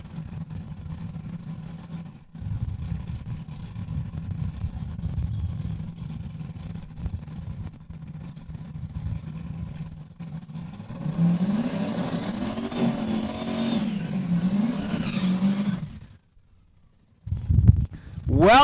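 A Cadillac drag racing at Saskatchewan International Raceway in Saskatoon, its engine droning loud and steady, then rising to a higher, rougher roar before cutting out briefly and returning.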